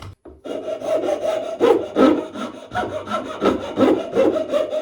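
Rough, rhythmic strokes of a rasp scraping against the grain of wood while shaping a sword, close and fairly loud, repeating in quick back-and-forth passes.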